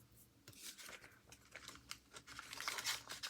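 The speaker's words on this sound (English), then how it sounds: "I just use my scissors to cut the slot out." Scissors snip and crunch through thin dictionary-page paper while cutting a slot in a decorated envelope, a quick run of close, crisp crinkling cuts that grow busier toward the end.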